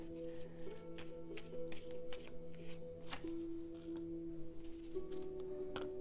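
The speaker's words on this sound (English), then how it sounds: "Gently shuffle my cards." Tarot cards being shuffled by hand, a steady run of soft riffling flutters and taps with a faint background hum.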